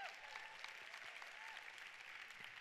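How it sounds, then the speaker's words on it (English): An audience at a large live event claps steadily and fairly loudly, making a dense, continuous applause without any break. "Give yourselves a round of applause."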